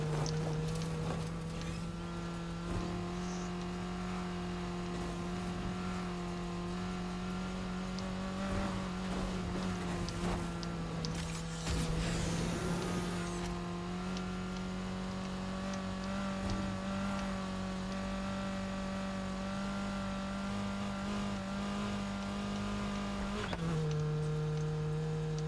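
A race car engine in Need For Speed Heat holds a sustained high rev through a drifting turn, a steady loud droning whine with brief surges and a pitch drop near the end, no talk.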